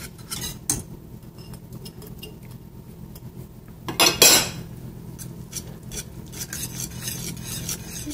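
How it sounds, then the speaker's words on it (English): Ham goes into a pan of melted cheese sauce for a low-carb broccoli, ham and Dijon au gratin, with a metal utensil scraping, stirring and clinking against the pan and a loud burst of clatter midway. "Now I'm going to add the ham."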